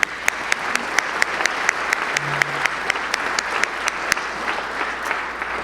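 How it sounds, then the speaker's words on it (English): An audience at a Rotary Club economic outlook panel claps for the sponsors, a dense, steady round of applause from a room of people, sustained throughout with a few sharp louder claps standing out near the front. "please join me in a round of applause to thank our sponsors"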